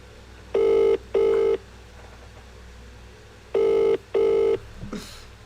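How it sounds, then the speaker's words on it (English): Telephone bell ringing during a live online broadcast: two pairs of loud electronic double rings, each burst about half a second long with a pause between pairs, then a faint brief sound at the end. "my phone's ringing."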